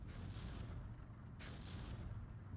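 Mortar fire in a WW2 real-time strategy game, Steel Division 2: a dense, continuous low battlefield rumble with bursts of distant blasts swelling in and out, no voices.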